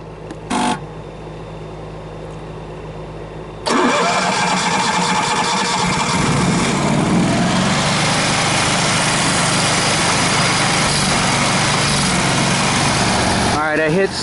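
After a short clunk, a Briggs & Stratton portable generator engine starts and settles into a steady, loud running drone that continues to the end.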